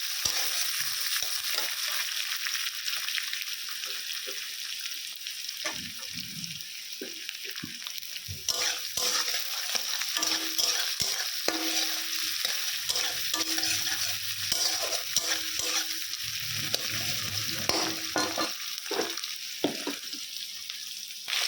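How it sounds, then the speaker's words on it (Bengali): Chopped onions sizzle in hot oil with whole garam masala and bay leaf while a spatula stirs and scrapes the pan, a continuous close frying hiss broken by repeated stirring clatter, no voices. "গরম মশলা তেজপাতা ফোড়ন দিয়েছি, পেঁয়াজ দিয়ে দিলাম।"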